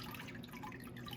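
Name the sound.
water dripping from recycled paper pulp sheet in mould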